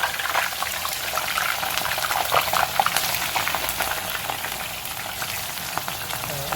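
Flattened plantain slices fry in hot oil: a dense, continuous bubbling sizzle, close and fairly loud throughout, with no voices.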